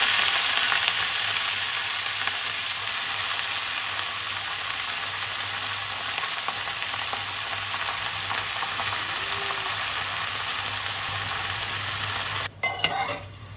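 Radish greens frying in oil tempered with mustard seeds and green chillies, a loud continuous sizzle with stirring scrapes close up, ending in a few sharp clatters near the end.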